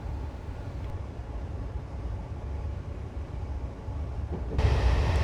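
A Class 320 electric train in Train Simulator 2015 rumbles steadily along the line between Glasgow Central and Lanark, a low continuous running noise that swells louder near the end.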